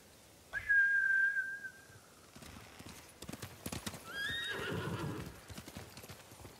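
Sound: horses in Ghost of Tsushima video game

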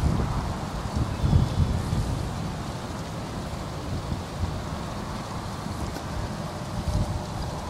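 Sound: wind blowing outdoors

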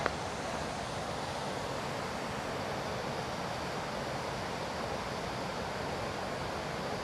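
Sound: waterfall

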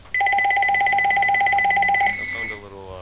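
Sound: telephone dialing sound from a banana phone in a video game

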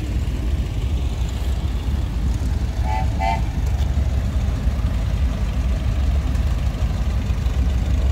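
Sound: vintage tractor engine idling

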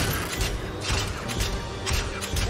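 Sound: creaking swings in a cartoon

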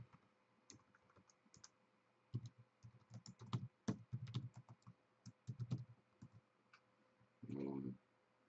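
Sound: typing on a computer keyboard

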